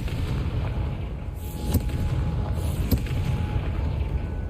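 A Confringo fire spell bursts in Hogwarts Legacy, a low booming blast over a steady rumbling game backdrop, with two sharp crackling hits about a second apart.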